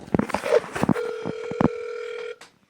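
Video call app ringing tone on a phone, a steady sustained tone with harmonics lasting about a second and a half and then stopping abruptly, preceded by brief talk and noise.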